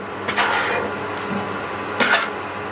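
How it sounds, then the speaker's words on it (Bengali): Peanuts frying and being stirred in a pan (kadai) for a spiced Bengali peanut mash, giving two short scraping stir strokes over a steady low sizzle, close and moderately loud. "তো এইভাবে একটু ভালো করে ভেজে নেব।"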